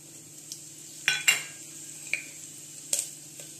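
Mustard seeds, cumin and asafoetida crackle in hot oil, giving a few sharp, sparse pops and ticks over a low, quiet kitchen hum.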